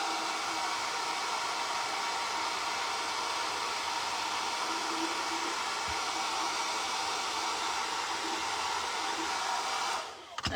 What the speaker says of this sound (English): Let's go ahead and dry this up.